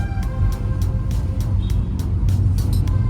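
Heavy car traffic on a mountain road near the tunnel on the Manali route, a dense, continuous engine rumble below with a string of short horn blasts repeating through the scene.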